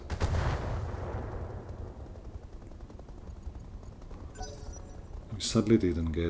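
Mech weapons fire in the Battletech Roguetech mod, a heavy blast at the start decaying into a rumble, then later bursts of rapid shots and impacts.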